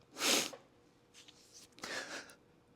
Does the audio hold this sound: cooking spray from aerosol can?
no